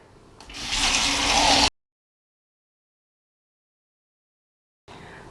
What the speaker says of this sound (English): I'm gonna fill the rest with water.